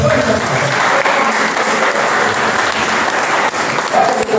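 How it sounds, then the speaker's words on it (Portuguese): Loud, dense applause from a church congregation fills the whole stretch at an evening worship service, a steady roar of clapping with a faint murmur of voices underneath. "Você pode aplaudir ao Senhor nessa noite?"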